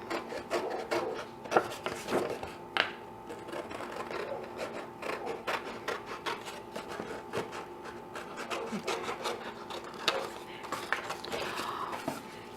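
Scissors snip through a cardstock circle, a run of short rasping cuts repeating at an uneven pace, close and moderately loud, with no one talking.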